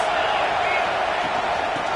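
Steady roar of a stadium crowd at a football game, a dense unbroken wash of noise heard under a commentator's voice.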